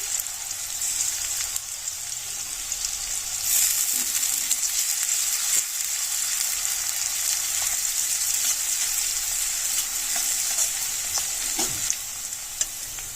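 Onion frying in a pan with ginger garlic paste, stirred now and then: a steady bright sizzle runs throughout, with occasional soft scrapes of the spoon, close and fairly loud, no talk.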